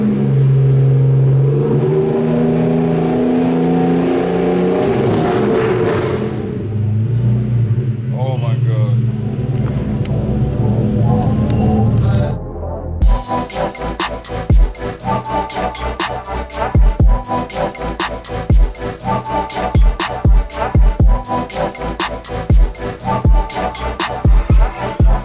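A Eurostallion car engine revs with a deep, low exhaust note, first as a sustained rumble and then as a run of sharp, stuttering revs, loud and close.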